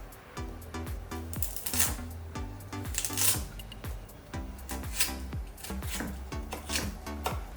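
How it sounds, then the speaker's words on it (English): Carrots chopped with a knife on a board while making oyakodon, a fast, steady run of crisp, close cutting strokes with bright transients throughout, no talking. "Cut the carrots."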